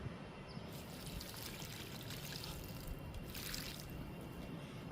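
Liquid protein fertilizer poured from a container onto the soil around a pomegranate plant, a steady close trickle and splash lasting several seconds with a surge partway through.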